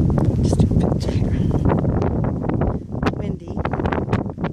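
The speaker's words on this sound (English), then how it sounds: "Windy." Gusty desert wind outdoors at Desert Hot Springs, California, buffeting the microphone with continuous rumbling noise and sharp irregular bursts.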